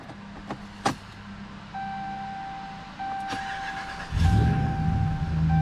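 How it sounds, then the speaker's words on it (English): A 2009 Ram 1500 Hemi pickup truck cranks and fires up at the end after several clicks and a steady chime, its engine settling into a low idle. "It starts the truck."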